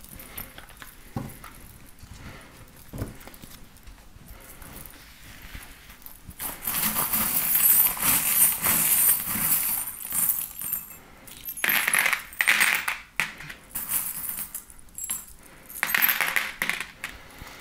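Small metal charms cast during a tarot-style divination reading, clattering and clinking onto a surface in a burst of bright jingling taps that scatter and settle over several seconds, with quieter rustling before.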